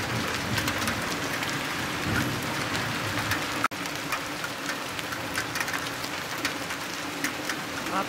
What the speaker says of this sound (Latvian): Lielgraudu krusa.